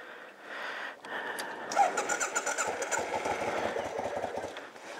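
Small engine started with the choke on in cold weather, cranking then catching into a rough, uneven idle with a steady rapid mechanical chatter close by.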